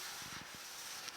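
A sanding block with 400-grit sandpaper slid lightly back and forth over guide coat on the hood of a 1950 Chevy truck, a short quiet rasp of a few soft strokes.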